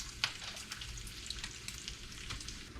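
Bacon frying for a BLT sizzles and pops steadily in a hot pan, close and fairly quiet, with scattered sharp crackles over a continuous hiss and no talking.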